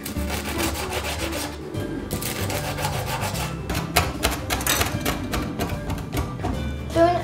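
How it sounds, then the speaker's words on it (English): A knife slices chives on a cutting board in quick, close, rhythmic chops, with short pauses between rapid bursts of cutting on the board. "I'll take my chive and I'll cut it into small slices using my claw method."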